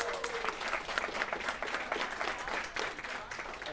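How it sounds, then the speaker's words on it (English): A convention audience at a writing fundraiser event claps in a moderate, steady burst, the applause filling the room with some talk mixed in. "Let's clap for these guys."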